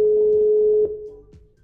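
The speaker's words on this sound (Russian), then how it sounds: "Так, давайте попробуем еще раз позвонить." Telephone ringback tone heard while phoning a prize winner during a live regional TV call-in broadcast: a steady electronic tone sounds clearly and alone, then fades and breaks up after about a second.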